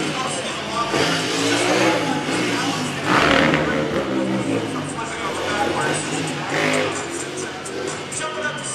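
Ducati motorcycle engine revving hard as the rider grabs the throttle to lift the front wheel in a freestyle stunt show at an indoor motorcycle exhibition, loud and continuous with crowd noise and a commentator talking over it.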